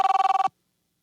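A telephone bell rings in a radio studio during a live talk show, a fast metallic trill of about ten rapid pulses lasting half a second and then cutting off to silence, loud and close.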